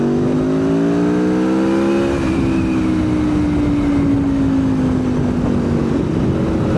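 A V7 850 motorcycle engine revs loud and close as the throttle is opened, its pitch climbing for about two seconds and then easing slowly downward in a steady drone.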